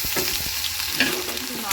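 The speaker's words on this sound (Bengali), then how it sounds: "তেলের মধ্যে রসুনটা ফোড়ন দিলাম" Garlic tempering in hot oil crackles with a steady, close sizzle, mixed with quick stirring scrapes across the pan for a brief moment.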